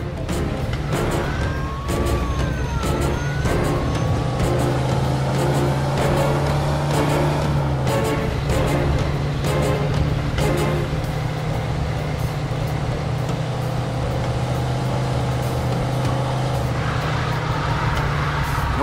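Fast driving in Mafia II, with a steady engine roar that stays loud throughout, rising and falling with gear changes over constant road noise.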